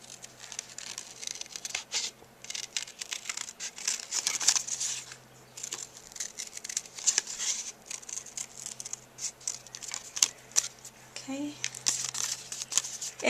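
Scissors snip and paper crinkles as embossed card pieces are cut out, giving irregular close crisp cuts and rustles at a moderate level.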